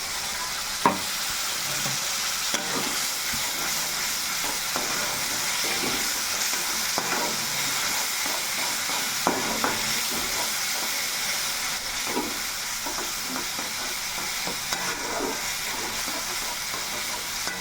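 Ginger garlic paste with cumin and a splash of water fries in a pan for a chicken curry, with a continuous hiss and sizzle broken by repeated sharp scraping stirs.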